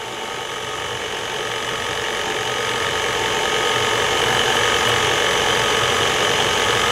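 KitchenAid stand mixer running steadily on low speed while flour is added for chocolate chip bacon cookies, a continuous close motor whir and hum holding level throughout with no talk.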